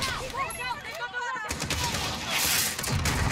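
Sustained mounted machine gun fire in Call of Duty: Modern Warfare, a loud, dense run of rapid shots with chirping effects early on, growing heavier and continuous in the second half.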